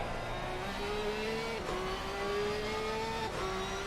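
Porsche race car in a racing game held at low revs on the Kyalami circuit, a steady engine drone with slowly rising pitch and brief dips as gears shift.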